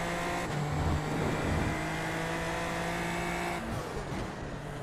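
A Ferrari GT3 Challenge race car in the iRacing simulator at Charlotte Motor Speedway: a steady, loud engine drone holding high revs throughout with a slight pitch shift near the end, no talk over it.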